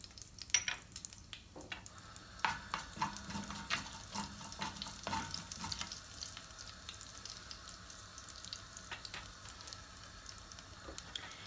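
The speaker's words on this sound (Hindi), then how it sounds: "मैंने बर्तन में तेल ले लिया, वही वाला बर्तन है जिसमें हमने कीमा बनाया था। अब मैं इसमें डालूंगी राई और ज़ीरा।" Mustard seeds and cumin crackle and pop in hot oil in the same cooking pot used earlier for keema, a steady close sizzle with scattered sharp spits and clicks throughout.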